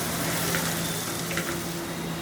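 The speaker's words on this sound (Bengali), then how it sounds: "এগুলা দিয়ে আমি একটু ভেজে পেঁয়াজটাকে একটু লালচে বেরেস্তা টাইপের করে নিব আর কি" Sliced onions frying in oil as they turn reddish-brown, a dense, even sizzle heard up close with small pops and no voices.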